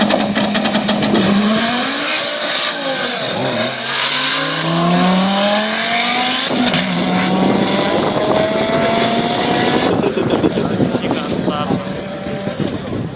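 A police BMW roars close by as it accelerates hard on an airfield drag strip, its engine pitch climbing through several gear changes, while an announcer talks over a PA.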